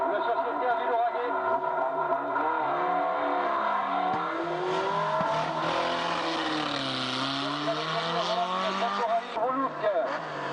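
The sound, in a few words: racing car engine at a motor race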